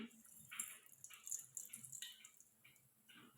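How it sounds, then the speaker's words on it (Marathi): Quiet, rapid crackling and popping, like seeds spattering in hot oil, continuing in small irregular bursts. "मोहरी छान तडतडते"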